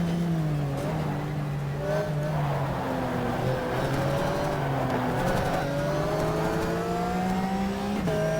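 A Porsche race car from the Pan Euro RS 2004 Rookie Cup in the GTR 2 video game drones steadily through laps, its engine note rising and falling with gear shifts, loud and continuous with faint tire noise.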